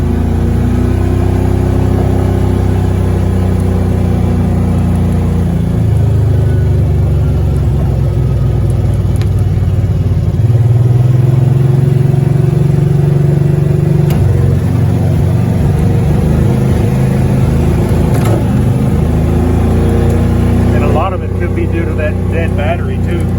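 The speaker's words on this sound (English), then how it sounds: "It falls on its face about mid-throttle" A Kawasaki Mule 3000 utility vehicle with a weak battery runs loud and close, its engine note rising and falling unevenly as the throttle is worked, with uneven, stumbling stretches through the middle range.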